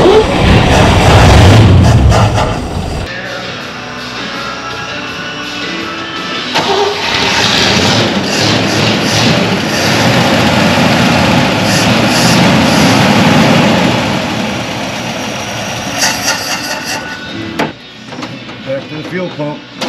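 A 1962 Chevy C10 custom pickup, sitting on a farm for 40 years, cranks loudly for a few seconds, then settles into a steady, rough, close idle running on and on, with people talking briefly near the end.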